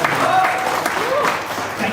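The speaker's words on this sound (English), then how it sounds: "Cheer for Rahul Sasi." A conference audience in Goa applauding and cheering for a speaker, a steady wash of clapping with crowd noise and a voice over it.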